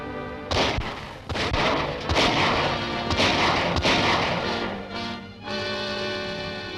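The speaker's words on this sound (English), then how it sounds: "I'll fire the first shot." A burst of gunfire from a 1939 Dick Tracy film serial, with loud, rapid repeated shots and blasts crowding several seconds over an orchestral score before easing off.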